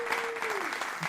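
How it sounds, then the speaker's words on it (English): A round of applause, dense and even clapping from a crowd for just over a second. "We definitely gonna give him a round of applause"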